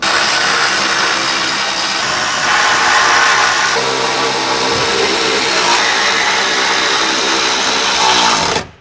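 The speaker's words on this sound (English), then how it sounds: "So we will get these 4 bolts in and snug down, and then we'll do a final torque on them." Power tool running loud and close as it drives Mopar trailer hitch bolts on a Jeep Wrangler Unlimited Rubicon JLUR, a continuous whirring drone with slight shifts in pitch, cutting off at the end.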